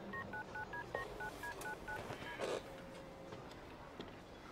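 Telephone keypad dialing tones during a hospital emergency: a quick run of about ten short, evenly spaced beeps over two seconds, then a faint steady tone, with no talk.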